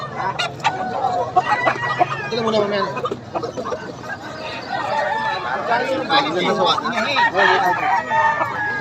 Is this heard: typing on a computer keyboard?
no